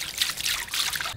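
Warm water runs from a tap in a steady, hissing trickle that stays close and even throughout, with no voices over it.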